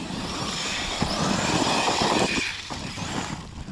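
A Traxxas Sledge RC truck racing at throttle outdoors, its electric motor whining loud and steady with rough gravel-like noise, the pitch surging briefly and then easing off.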